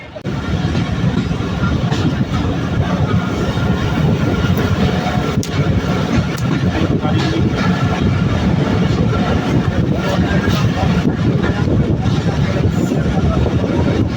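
A slow local mail train on the Rajbari to Bhatiapara Ghat line in Bangladesh, creeping along at about ten kilometres per hour, gives a steady loud low rumble and rattle heard from on board, continuous throughout.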